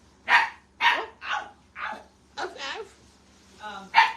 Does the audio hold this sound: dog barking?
yes